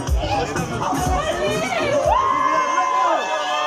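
A crowd at a live funk night in Lyon cheers and calls out as a singer is welcomed, with steady loud hubbub and a sustained shout rising over the noise throughout.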